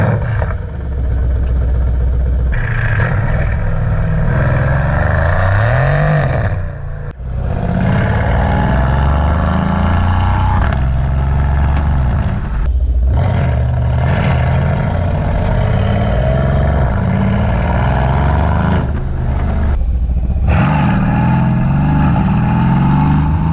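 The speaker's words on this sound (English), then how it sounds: "you'll be rewarded with exhilarating engine and exhaust sounds" A Mercedes-Benz C63 S V8 engine revs hard and loud through its exhaust, rising and falling in repeated pulls with a deep burbling rumble, close to the listener.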